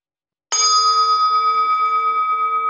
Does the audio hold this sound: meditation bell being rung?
yes